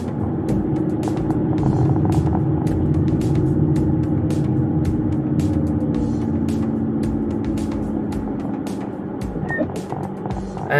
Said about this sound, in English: it is relatively quiet without a combustion engine running in the background of this car